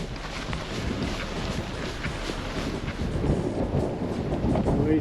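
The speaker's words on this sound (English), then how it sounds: "As you can probably hear, it's windy, but that's life." Wind rushes across the microphone during a 200 km randonneuring bike ride in British Columbia, a constant blustery rumble that swells louder toward the end.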